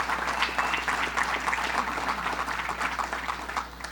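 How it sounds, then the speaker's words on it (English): A crowd applauds at the opening of a new subway station, sustained even clapping from many hands across the whole stretch, moderately close and without a break. "let's give them a round of applause for what they've done"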